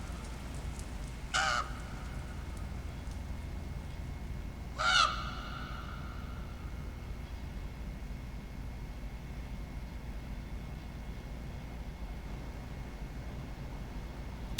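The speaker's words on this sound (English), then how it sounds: "Strong rain. Did Devitt let the crow inside the window?" Two sharp crow caws ring out a few seconds apart over a steady, heavy downpour of rain in the game The Last Door: Season Two.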